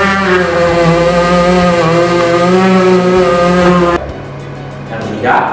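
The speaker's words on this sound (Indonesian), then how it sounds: "ketika saklar dinyalakan, otomatis baterai akan mengirimkan energi pada motor DC, sehingga motor DC akan memutar mata blender" A small battery-powered pocket blender's DC motor spins its blade with a loud, steady harmonic whine for about four seconds, then cuts off abruptly, leaving quieter background noise.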